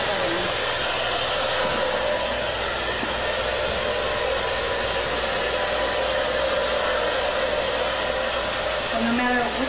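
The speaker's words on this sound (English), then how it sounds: "So no matter which way you blow dry this hair with the dryer" A hand-held hair dryer blows steadily and loudly throughout while hair is dried into an A-line bob, a continuous whooshing roar with no breaks.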